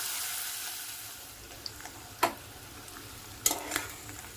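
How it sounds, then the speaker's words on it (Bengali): Chopped onion fries quietly in a pan while being stirred, a soft low sizzle broken by a few sharp scrapes and clicks of the spoon against the pan. "এবার এই পেঁয়াজটাকে আমি 2 মিনিটের মতো ভেজে নেব।"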